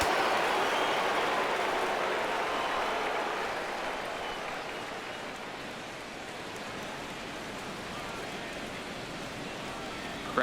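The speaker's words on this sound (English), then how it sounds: "Crowd gets up for the 3-2." A stadium crowd in the baseball game MLB The Show 17 roars in a broad, sustained wash of cheering that eases slightly midway. Murmuring voices sit under the noise.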